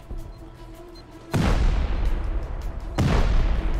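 C4 charges go off in a video game: two deep booming blasts about a second and a half apart, each one loud with a long rumbling tail, over quiet game ambience.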